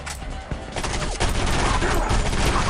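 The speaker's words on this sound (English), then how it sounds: "Chuck grenade. It's an antimatter grenade from the 90s." An antimatter grenade thrown in the Area 51 first-person shooter game, loud blasts and heavy gunfire building into a continuous roar of combat.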